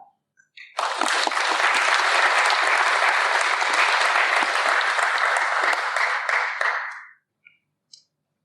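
Sustained audience applause welcoming a speaker to a Welcome to Country event in Melbourne, swelling quickly, holding steady and loud for about six seconds, then tapering off, with a few scattered claps after.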